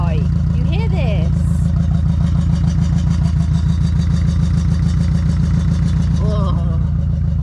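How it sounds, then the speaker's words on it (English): A van's exhaust pipe rattles and buzzes continuously from welding wire caught inside it, a loud steady droning rattle close to the microphone with a few brief voice sounds over it. "It's because the welder got welding wire inside the exhaust and it sounds like that forever and ever."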